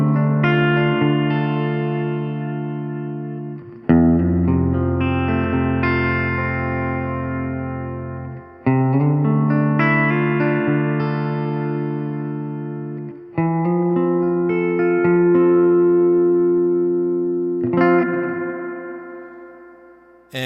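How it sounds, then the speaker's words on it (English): An electric guitar plays sustained chords through a long-spring reverb pedal, and each strummed chord blooms into a lush, animated tail that decays slowly before the next strum, with no talk. "we have the long spring that gives you a longer, more animated reverb trail."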